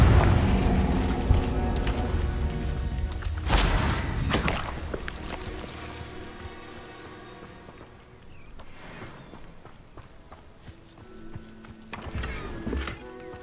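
Confringo spell explosions in Hogwarts Legacy boom loudly amid a dense, busy game soundscape with layered rumbles and impacts, one heavy burst standing out, then the mix settles to a quieter bed with later smaller hits.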